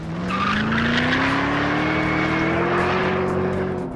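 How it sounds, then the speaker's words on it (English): A loud, whining supercharged all-aluminum V8 supercar engine screams past, its pitch climbing steadily as it revs hard up through the gear. "A shouty, whiny, supercharged, all-aluminum modular V8 with a crisp click-clacking from a manual shifter"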